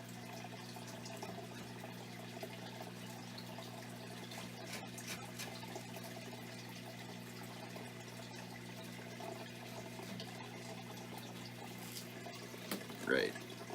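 Water runs steadily from a tap during fish tank maintenance, a constant low, faint hiss and hum that continues without break, ending with a brief louder splash or clatter.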